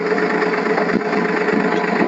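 Tractor engine running steadily in a field during groundnut sowing with a 21-tine drill attachment, a continuous mid-range drone with a faint tonal hum, close and fairly loud, with no voices.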